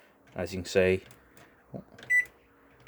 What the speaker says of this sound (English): press the eco button and the microwave will wake back up